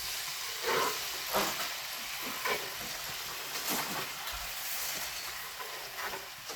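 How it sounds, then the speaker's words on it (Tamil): Chopped onions frying in butter in a kadai for paneer butter masala, giving a steady close sizzle and hiss throughout with occasional stirring scrapes, no voices. "இது நல்லா கோல்டன் ப்ரௌன் அளவுக்கு ஃப்ரை பண்ணிக்கோங்க."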